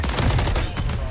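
Rapid bursts of automatic gunfire in Call of Duty Modern Warfare 3, a dense continuous fusillade of loud close shots filling the whole moment without any speech.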